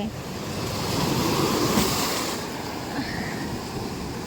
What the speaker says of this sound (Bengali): ঠান্ডা ঠান্ডা হাওয়া